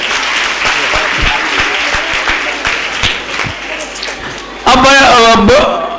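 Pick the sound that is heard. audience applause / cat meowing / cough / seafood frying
audience applause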